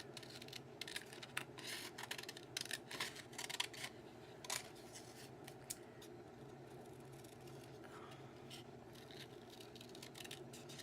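Scissors snip through paper for a flip book in quiet, irregular little cuts, close but faint, with no talking.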